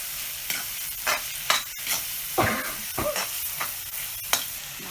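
Goat meat hits a hot pan over a village-style fire and sizzles loudly, with clattering stirring strokes and scraping at a steady pace, and no voices.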